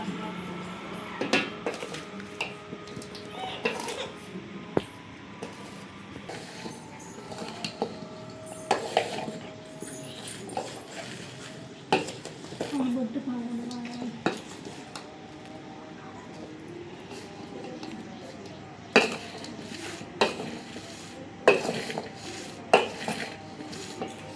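Four kilograms of raw mango pieces are mixed by hand with salt and chili powder for homemade avakaya pickle. Soft rustling and shuffling runs throughout, with sharp clinks and knocks of a vessel at irregular intervals.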